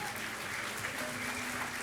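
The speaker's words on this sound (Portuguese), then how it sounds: "Dê um forte aplauso ao Senhor" A church congregation applauds steadily during a worship service, a dense wash of clapping at moderate distance with no break.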